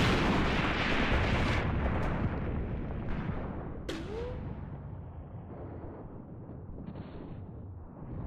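Heavy artillery blasts and nearby gunfire from the war game Graviteam Tactics: Mius Front, with a loud opening barrage trailing off into rolling echoes, then scattered sharp shots and a whistling shell.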